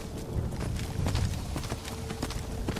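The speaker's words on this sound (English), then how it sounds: "I'm pretty sure Arvak is one of the fastest horses in the game" Rapid clip-clop of galloping hooves from the horse Arvak in the video game Skyrim, a steady thudding rhythm with a low rumble beneath, close and continuous, with no talking.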